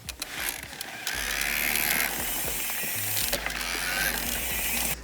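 Bosch e-bike motor in overrun, a rapid mechanical ratcheting whir over a low steady hum, close and moderately quiet, continuous for a few seconds.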